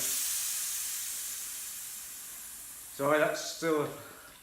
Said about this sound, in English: that noise is still the pump